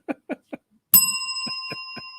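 A bright bicycle-style bell dings once with a long ringing tail, sounding as an effect during a livestream, preceded by a few short vocal bursts and followed by voiced sounds over the fading ring.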